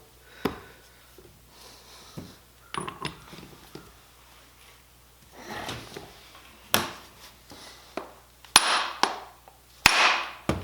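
Sharp metallic taps and clanks ring out irregularly as a socket is hammered to drive in a seal during a 1976 Ford F250 steering pump and gearbox rebuild, blows growing louder and more forceful toward the end.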